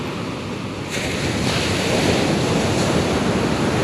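Loud surf and wind noise swell as big waves wash in around crossing boats, with a rushing, blustery roar close to the microphone and no talking.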